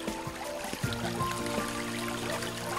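Brook water trickling and burbling over stones at a wild camp, a soft, steady flow heard close by with faint, irregular drips and gurgles.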